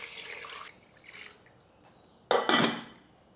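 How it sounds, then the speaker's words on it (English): Water pours into a rice cooker pot holding pork ribs for porridge, a short, loud, splashy burst that follows fainter kitchen handling noises. "Add water."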